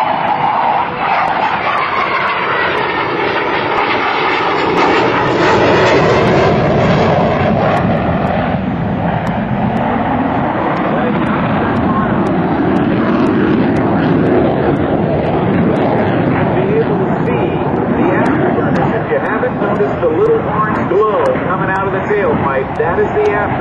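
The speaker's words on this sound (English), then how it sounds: "From the left, the Hornet, minimum radius turn." An F/A-18C Hornet jet at an airshow flies a tight minimum radius turn, its loud, broad engine roar sustained throughout with a swelling rush, while an announcer talks over it.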